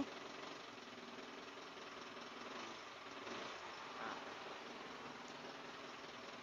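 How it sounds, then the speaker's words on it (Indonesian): Diesel engine of an Isuzu Elf NMR 71 HD 5.8 truck running steadily near and fairly loud, with a couple of mild throttle rises midway and no talking. "Coba kita agak digas dikit."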